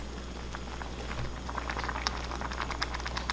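Tomatoes simmer in seblak broth, a dense bubbling and popping patter that stays close and steady, with a faint low hum underneath.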